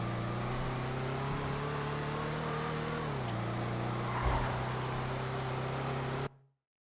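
A car in GTA on a roleplay server: a steady engine hum that dips in pitch midway as it shifts, with a brief thump near the end before cutting to silence.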